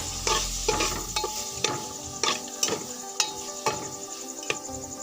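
Maggi noodles with garam masala and two packets of Maggi masala are stirred in a hot pan, a spoon scraping and clicking against the metal in irregular strokes over a soft sizzle.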